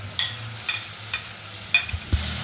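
Garlic paste and onion paste fry in fish oil with green chili, a low steady sizzle broken by several sharp, regular scrapes of a spoon stirring the pan.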